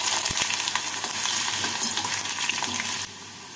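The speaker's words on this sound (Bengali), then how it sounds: "তেলটাকে ভালো করে গরম করে নিয়ে এর মধ্যে আলুগুলোকে দিয়ে লাল করে ভেজে তুলে নেব।" Potatoes fry in hot mustard oil in a wok, giving a dense, steady crackling sizzle with scattered sharp pops and stirring scrapes, close and continuous, easing slightly near the end.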